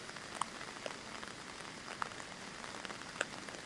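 Steady rain pours over National Highway 44, where landslides and falling rocks have blocked traffic, a dense even hiss broken by a few sharper drops landing nearby, with no voices.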